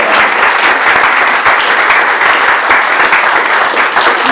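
A church congregation claps at an inauguration service, a loud, continuous wash of applause sustained evenly from start to finish with no clear pauses.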